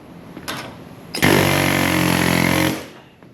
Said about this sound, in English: It is cut in the rubber, but I mean, it is an air chisel.